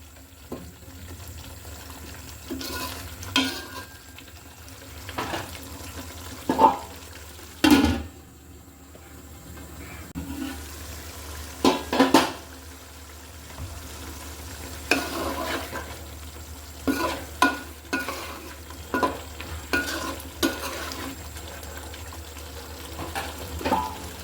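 Spices, shrimp and vegetables such as ridge gourd, sponge gourd and pointed gourd sauté in a pan with coriander leaves, giving a steady low sizzle broken by repeated sharp scrapes and clatters of a spatula stirring against the pan.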